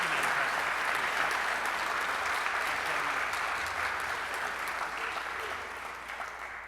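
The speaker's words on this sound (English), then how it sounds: "Let's give him another round of applause." Sustained audience applause at a Rotary club meeting, a dense, even wash of many hands clapping that holds steady and then gradually thins toward the end.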